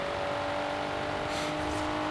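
A low-mileage tuned Toyota Supra Mark IV in Forza Horizon 4 drones steadily at constant engine speed, a loud sustained hum with a faint higher whine near the end, no talk.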